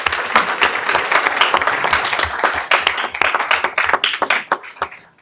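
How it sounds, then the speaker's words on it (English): A small audience at a public meeting claps for youth commissioners, close and loud individual hand claps in an uneven rhythm that taper off toward the end. "Another round of applause for our youth commissioners."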